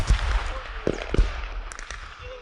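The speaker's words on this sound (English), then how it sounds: "Yeah, mortars are incoming." Incoming enemy mortar rounds in a war video game, several sharp explosive thumps in quick succession followed by a lingering rumble, with faint distant bangs.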